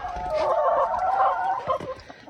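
Chickens clucking and murmuring close by in a village yard, a busy overlapping chorus of hens for a couple of seconds, fading toward the end.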